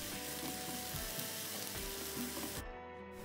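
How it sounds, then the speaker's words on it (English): Cabbage and mushrooms stir-fry in a hot pan for yaki udon, giving a loud, steady sizzle broken by soft scraping stirs and ending in an abrupt cut. "add the cabbage and mushrooms and cook for another 3 minutes"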